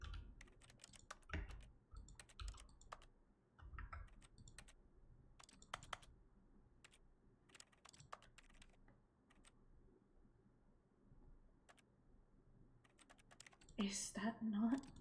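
Close, steady clatter of keys on a computer keyboard in uneven bursts, with a short louder noise near the end.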